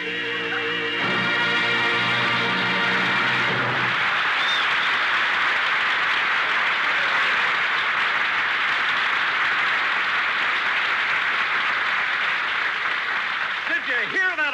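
A studio audience at a radio comedy show applauds after a singing act, and the dense clapping swells and holds steady for over ten seconds. A brief stretch of music comes just before it, and a voice begins speaking at the very end.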